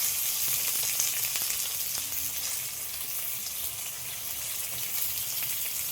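Onions fry with a soft, even sizzle as tomato and salt go into the pan, with faint stirring and crackle running throughout at a low, close level.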